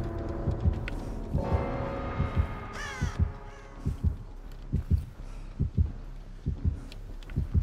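Dead by Daylight terror radius heartbeat, a loud close double thump repeating at an even pulse, with crow caws over it early on.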